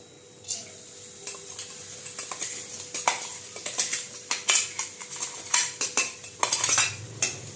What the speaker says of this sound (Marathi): तर मी टाकून घेतलं आणि त्याला व्यवस्थित परतून घेते अगोदर